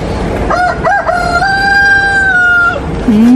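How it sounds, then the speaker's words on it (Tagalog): A rooster crows loudly and close by in one long, drawn-out call, preceded by a few short clucks from nearby chickens. "Ito yung mga manok"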